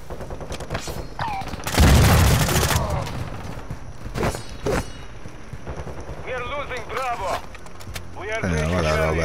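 Gunfire from a multiplayer military shooter game, with a loud burst of rapid fire followed by scattered individual shots and a brief whistling sound, under radio-style voices calling out orders.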